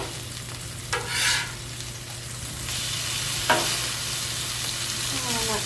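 Food sizzles steadily on a Blackstone griddle, and a few sharp scrapes come from the spatula as pieces are flipped.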